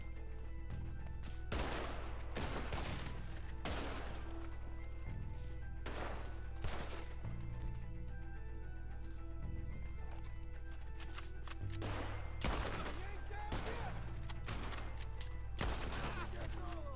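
Gunfire rings out in Red Dead Redemption 2, loud irregular bursts of shots and volleys over a constant background rumble, with occasional horse hooves in the mix.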